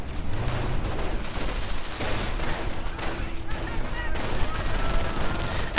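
MG42 machine gun fire in a World War II strategy video game, a dense, continuous rattle of gunfire and explosions mixed with battle noise, with a voice talking over it.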